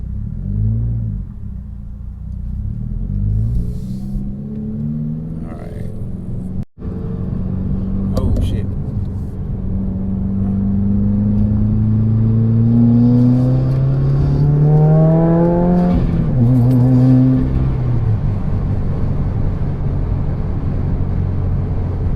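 A 2020 Subaru WRX fitted with a Perrin turbo support bracket accelerates hard, its engine note climbing steadily through a loud pull with a gear change, then easing off, heard close from inside the car.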